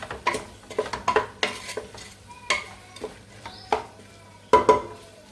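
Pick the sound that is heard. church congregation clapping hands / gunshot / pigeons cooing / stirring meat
stirring meat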